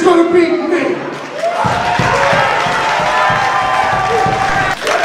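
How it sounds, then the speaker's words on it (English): Pro wrestling arena crowd cheering for Eddie Kingston, a loud sustained roar with chanting and rhythmic clapping, under a commentator's voice. "listen to the crowd get behind Eddie"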